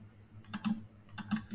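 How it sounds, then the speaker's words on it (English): Typing on a computer keyboard while writing Python code, two quick clusters of close, crisp key taps over a faint background hum, no speech. "So I'm going to type"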